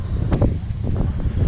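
Heavy wind roars against the microphone on a BMW G310GS motorcycle ride toward Horsley Hills, a loud, steady low rush with gusting pulses and no clear talk.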